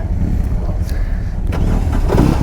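A 2022 BMW R18 motorcycle engine cranks and starts for the first time, a loud close rumble building into a steady idle.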